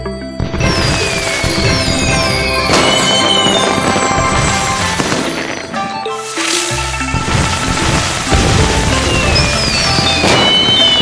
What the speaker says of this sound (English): Wow, the fireworks are so beautiful.